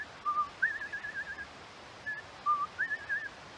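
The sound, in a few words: whistled imitation of a bird song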